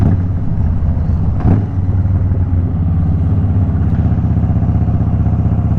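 A 2008 Harley Davidson Crossbones motorcycle engine runs in first gear, a loud, close, steady low throbbing rumble with a brief rise partway through, no talking.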